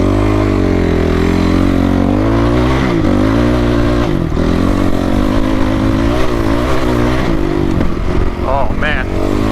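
A dirt bike rides across soft sand, its engine loud and close, revving and bogging in uneven surges with clattering from the machine and terrain throughout.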